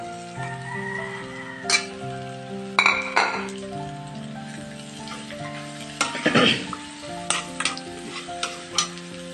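Onions sauté in oil with ginger, garlic, green chili and curry leaves for pepper chicken roast, giving a soft sizzle broken by sharp clinks and scrapes of a stirring utensil against the pan, over steady background music.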